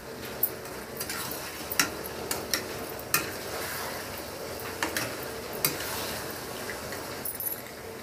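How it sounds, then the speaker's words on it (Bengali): Chicken sautés in oil with garam masala under a soft, steady sizzle, punctuated by irregular sharp clinks and scrapes of a spoon stirring against the pan. "গরম মশলাটা দিয়ে মাংসটাকে ভালো করে তেলের সাথে কষিয়ে নিচ্ছি।"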